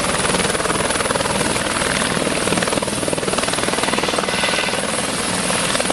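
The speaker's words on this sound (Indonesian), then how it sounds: "Wah, ada suaranya teman-teman. Ini helikopter ambulan." An ambulance helicopter's loud, steady rotor thump with a whining engine, close and continuous the whole time.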